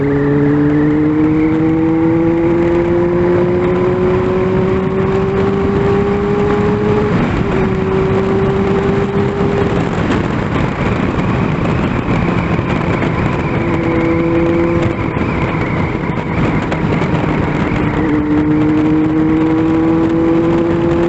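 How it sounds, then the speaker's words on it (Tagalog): Honda Super4 motorcycle engine on a bridge in San Ildefonso, Bulacan, humming steadily up close with repeated rising revs and gear-shift steps, loud and continuous without talk. "Masarap gisingin ng motor dito at dire-diretso daan"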